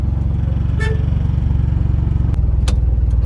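A car moving through heavy evening traffic gives a loud, steady engine drone with a low rumble, and a couple of short sharp sounds cut in near the end.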